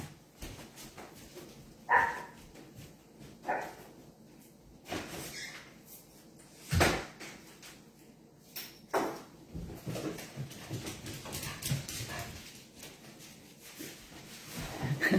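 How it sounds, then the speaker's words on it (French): A pet dog indoors at home barks in several sharp, separate bursts, with scratching and thumping against a door in between, heard from a short distance and fairly quiet overall. "vous entendez peut-être mon chien qui jappe puis qui gratte dans la porte"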